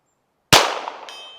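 A High Standard Supermatic Citation pistol fires one sharp shot, followed about half a second later by a ringing clang as the bullet hits a steel IPSC target at 100 yards, with the ring trailing off.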